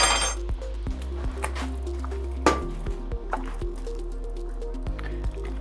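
Russian shchi soup ladled into a bowl, with soft liquid squishes and glassy clinks of utensil against the pot and dish, close and fairly quiet, no talking.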